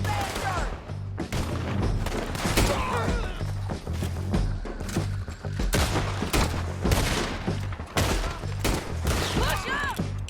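Gunfire in the video game Red Dead Redemption 2, a dense, chaotic exchange of rapid shots and booming reports over about ten seconds, with shouting voices mixed into the battle.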